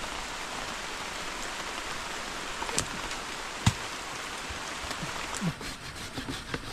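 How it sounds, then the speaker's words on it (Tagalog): Rain falls steadily outdoors during papaya picking, a soft, even hiss of drops on surfaces with a few louder nearby splats and taps. "Tayo po inabot na ng ulan po ay."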